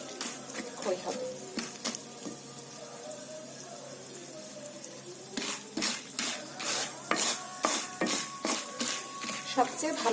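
Corn kernels stirred in hot oil in a pan for popping, a soft frying sizzle with scraping stirs that grow into a quicker run of sharp clinks and rattles in the second half, close and fairly quiet.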